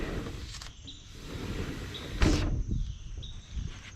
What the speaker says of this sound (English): you got your door sliding back and forth.